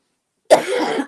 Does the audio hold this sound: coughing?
yes